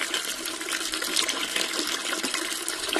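Water pours steadily and loudly from a toilet in a comedy sketch, a continuous rushing gush with no breaks or voices.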